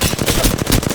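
Rapid automatic gunfire in the battle royale game Apex Legends, a loud close burst of about a dozen quick shots in a tight rhythm, no talking.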